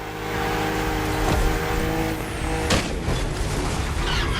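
BMW M2 and M4 race cars in The Crew Motorfest roar along a narrow, twisting road, with a steady, loud engine drone, shifting harmonic pitch and a sharp knock midway.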